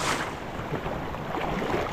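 Calm sea waves wash and churn close by, mixed with wind buffeting the microphone of a GoPro camera at the water's edge, a continuous rough hiss with no voices.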